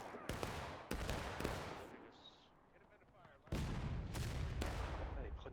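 Musket volleys in the Civil War game War of Rights, a Historical Rules Event on Crecy's Cornfield map: repeated loud, sharp shots and ragged independent fire crackling in bursts, with some rumbling pauses between.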